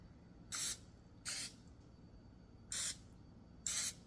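Four short hissing bursts from a spray bottle misting oil into an air fryer basket for chickpeas, two close together, a pause, then two more, each crisp and brief in a quiet kitchen.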